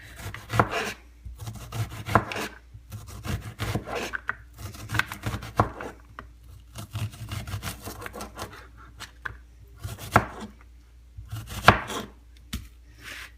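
An onion is chopped with a dulled kitchen knife on a cutting board: bursts of quick, close, crisp knife strikes, pausing between runs of cuts, with no talking.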